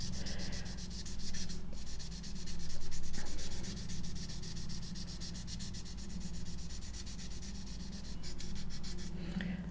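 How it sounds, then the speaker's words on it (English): A painted scale model, still coated in black paint, is rubbed down to smooth its surface, giving a steady, continuous close-up scratchy sanding hiss with slight swells in intensity and no talking. "I will continue with this, and when I've got the entire model smoothed to my satisfaction"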